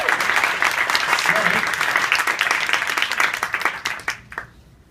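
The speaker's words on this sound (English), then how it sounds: "can I have a round of applause first for that?" Audience applause fills a room at a typography meetup event in New York City, loud and steady with dense clapping for about four seconds before quickly dying away.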